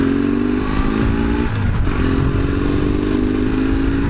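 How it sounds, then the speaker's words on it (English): A 1965 motorcycle engine idles close and loud just after a kick-start, a steady throbbing rumble dipping briefly before settling back into its even beat. "For a 1965 bike, I mean, to be able to kick it once or twice and it start up and run"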